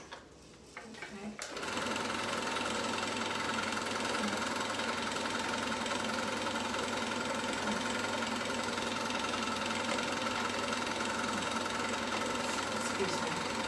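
A sewing machine stitching fabric for a headwrap runs steadily after a brief pause, a continuous close whirring hum with a rapid needle rhythm.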